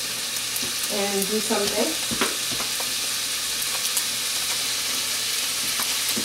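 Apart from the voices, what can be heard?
crab cakes frying in a pan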